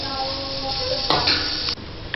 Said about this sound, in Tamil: இப்போ நம்ம எடுத்து வச்சு அந்த புளி தண்ணியை ஊற்ற போகிறோம்.